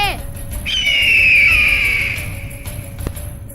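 A kite bird screeches in a comedy cartoon: one long, shrill, falling cry that rises to full strength, then fades away over a faint background tone.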